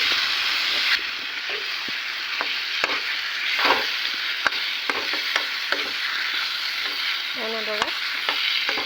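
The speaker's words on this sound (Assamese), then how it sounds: "অলপ সময় মাংসখিনি ভাজি ল'ম গোটেই মছলাখিনিৰ লগত" Meat sizzles and fries in a pan with coriander, cumin, red chili and chicken masala, a steady close hiss broken by repeated scraping stirs and clinks, with one brief spoken word.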